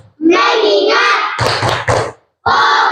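Children in an Indonesian classroom doing a rhythmic focus clap, with dense bursts of hand claps and voices chanting together, then a short pause and another burst of clapping.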